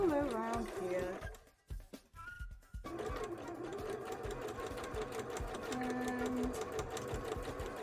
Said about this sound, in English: I'm just going to get that nice and blended in, and then do a little running stitch all around here.